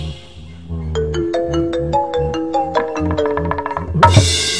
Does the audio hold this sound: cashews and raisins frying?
no